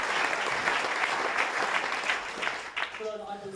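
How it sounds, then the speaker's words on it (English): Crowd applause at a Labour Party address by a politician after the 2015 British general election, steady clapping from a gathered audience that thins out near the end as a voice begins. "his applause expressed sad support."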